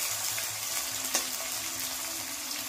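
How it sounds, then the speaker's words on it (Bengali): Onion fries in a pan for a mutton recipe, a soft, even, continuous sizzle with one brief clink midway and no voices. "এবার পেঁয়াজটাকে একটু লাল লাল করে ভেজে নেব।"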